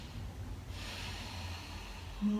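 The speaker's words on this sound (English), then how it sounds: "take a nice deep breath in" A deep breath in during a yoga vinyasa flow, a soft, close airy inhale rising in the middle, faint against quiet room noise.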